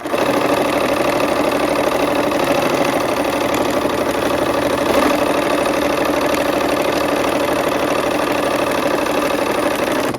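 A sewing machine stitching fabric rectangles together for a quilt, a steady close mechanical whir with a fast even needle rhythm running unbroken and loud from start to finish, with no voices.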